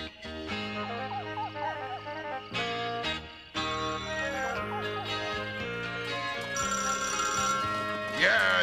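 Telephone bell in a cartoon, ringing repeatedly in bursts over a busy musical and effects soundtrack, with a voice speaking over it.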